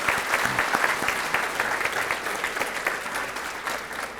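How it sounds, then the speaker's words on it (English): Graduating students at an Arlington ISD awards ceremony applaud their parents and families, a full, steady round of clapping from a large crowd that fades slightly toward the end. "please give a round of applause to your parents and family members that are here"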